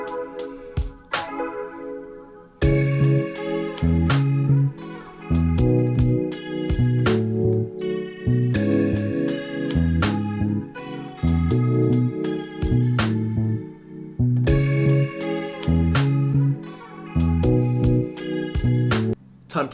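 An indie bedroom pop arrangement with chorus-treated guitar or keyboard parts panned left and right, playing shimmering chords over a steady beat with crisp ticking percussion, a clean, continuous mix with no voices.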